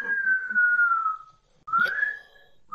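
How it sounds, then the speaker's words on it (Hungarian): A person whistling two long sustained tones, the first slowly falling, then a short pause before a second rising note and the start of a third, close and clear with faint background noise. "Te meg ne fütyülj már"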